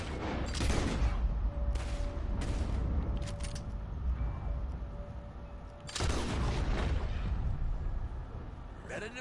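Gunfire in the video game Red Dead Redemption 2, with several loud, booming shots over a dense, noisy battle background.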